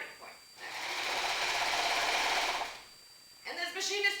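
A sewing machine on a quilting frame runs a seam in one steady, loud whirring burst of about two seconds, starting and stopping abruptly, with short handling noises before and after.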